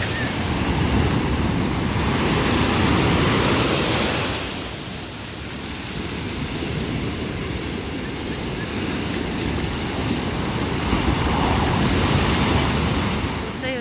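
Ocean surf washes steadily onto Del Muelle beach in Tenerife, a loud continuous roar with a brief dip in the middle. Wind blows across the shore throughout.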